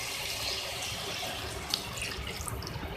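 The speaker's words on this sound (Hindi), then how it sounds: "अब इसके अंदर मैं 1 गिलास पानी ऐड करूँगी," A glass of water is poured into a pot of sautéed tinda for the curry, giving a steady, splashing rush of liquid that runs close and unbroken for about three seconds, with a small drip near the middle.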